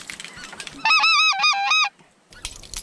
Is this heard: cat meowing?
no